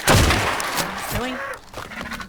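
A longneck rifle fires in the Ark video game, one sharp, loud shot right at the start, followed by someone talking.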